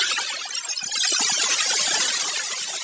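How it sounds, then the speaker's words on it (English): Sonified recording of a solar storm on the sun: a dense, continuous hiss and crackle with fluttering, garbled textures, steady and loud throughout with no voices. "If you've ever wondered what a storm sounds like on the sun,"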